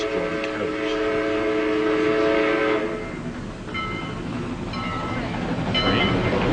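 Train passing with horn-like tonal blasts and rumbling rail noise, loud and steady throughout, played as a sound to identify.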